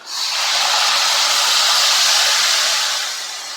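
Coconut milk hits a very hot Indialayam pan with a loud, steady hiss of steam, up close and sustained for several seconds with no talk, easing slightly toward the end.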